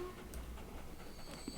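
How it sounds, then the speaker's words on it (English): A train hauling a load of stone on the Rothbury Branch Line in Northumbria makes a faint, continuous low rumble with light rolling clatter. "And we're coming back in again with our train."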